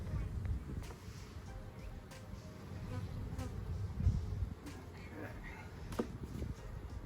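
A low, continuous insect buzz hums steadily in the background, with faint voices and rustling nearby.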